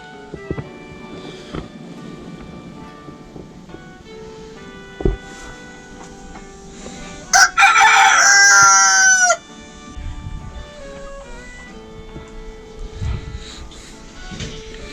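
A rooster crows once at moderate distance, a loud, strained call lasting about two seconds, with faint background noise and quiet activity before and after.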